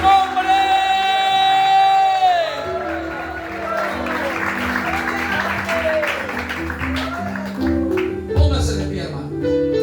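A church congregation cheers and applauds during a Spanish-language worship service, crowd noise and clapping mixing with voices and sustained musical tones, loud and continuous.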